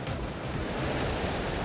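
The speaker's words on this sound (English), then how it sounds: "there's 275 separate waterfalls with 13 million litres of water spilling over" Iguazu Falls roars as a steady, dense wash of water thunders over its 275 separate waterfalls, about 13 million litres per second, a loud broadband rush with no voices.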